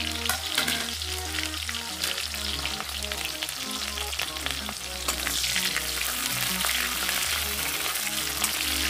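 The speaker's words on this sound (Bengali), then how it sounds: "এটা একটু ভেজে নেব।" Two small onions fry with black cumin seeds in a pan for a Bengali kakrol (spiny gourd) dish, giving a steady, dense sizzle and crackle with occasional utensil scrapes and clinks. The sound is close up and has no talking.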